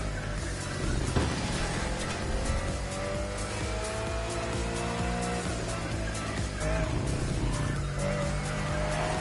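A Bugatti Bolide race car on slick tires in The Crew Motorfest roars through turns with a loud, steady engine note and repeated tire squeal and skidding, alone without voices.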